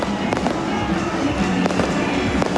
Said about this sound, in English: I say that Mardi Gras are spending a lot of money on fireworks tonight.